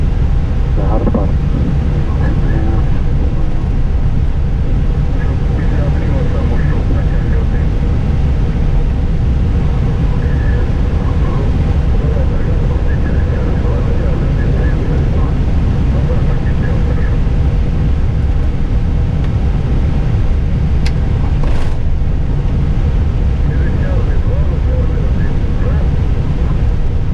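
An Airbus airliner taxiing on a snowy taxiway, heard from the cockpit as a steady low engine rumble and drone throughout, with a pilot talking over it and a brief click near the end.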